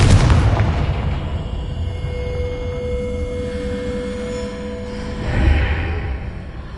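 The Confringo fire spell in the video game Hogwarts Legacy bursts as a loud boom. A rumbling tail decays over several seconds, and a second, smaller swell follows near the end.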